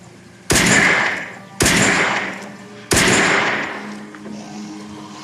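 Three loud, sharp gunshots from a Fear The Walking Dead Season 4 episode ring out about a second apart, each with a long echoing decay.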